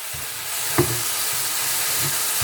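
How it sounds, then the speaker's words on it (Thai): Rice noodles and pork stir-fried with soy sauce in a wok, giving a steady low sizzle with soft scraping stirs and one brief clank of a utensil against the pan. "ผัดยังไงไม่ให้ติดกระทะ"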